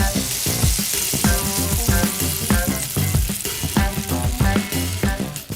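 Pieces of snakehead fish fry in hot oil, a loud steady sizzle and crackle with repeated scraping and stirring knocks from a utensil in the pan.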